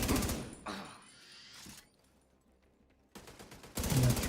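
A turret in a video game rattles off loud rapid bursts of automatic fire, with a burst at the start, a quieter stretch of mechanical noise, then fresh loud bursts at the end.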